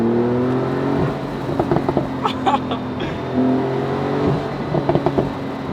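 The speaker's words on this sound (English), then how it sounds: "I don't like pops on the car, but some cars it suits really well, such as this Porsche 911" A Porsche 911 Carrera (991.2) engine hums and revs with rising pitch, broken by a few sharp crackling exhaust pops in short bursts.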